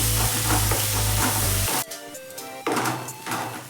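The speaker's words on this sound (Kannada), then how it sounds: "ಈರುಳ್ಳಿ ಸ್ವಲ್ಪ ಬ್ರೌನ್ ಆಗೋ ತನಕ ಫ್ರೈ ಮಾಡ್ಕೋಬೇಕು." Onions frying in a pan for a bitter gourd gravy. A loud, dense sizzle with stirring drops away abruptly midway, then the frying hiss rises again in softer surges, close by.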